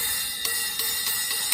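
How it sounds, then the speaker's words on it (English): A 13-inch low-volume hi-hat top cymbal with a bronze finish, struck on its own, gives a bright, steady metallic wash with about five light, evenly spaced hits ringing over it, fairly quiet and close. "This is a 13-inch hi-hat top"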